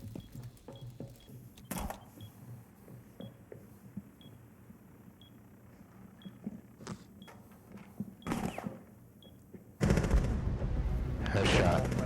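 Rainbow Six Siege gunfire sounds as sharp bursts and single shots scattered through the round, with people talking over it and a louder burst of game noise near the end.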